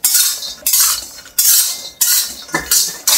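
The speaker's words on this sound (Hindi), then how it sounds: "उसमें मैं सारे ड्राई फ्रूट एक साथ रोस्ट कर रही हूँ" A spoon scrapes and clinks against a wok while stirring dry fruits roasting in homemade ghee, about six sharp metallic strokes in a quick uneven rhythm, close and loud.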